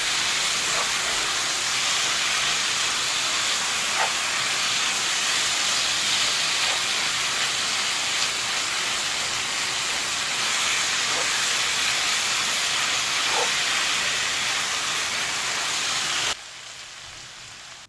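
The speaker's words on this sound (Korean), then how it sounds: "양념을 잘 섞어가면서 볶아줍니다" Spicy Korean pork (jeyuk bokkeum) stir-fries in its sauce in a pan, giving a loud, steady sizzle with occasional faint scrapes. The sizzle drops off abruptly just before the end, and no one speaks.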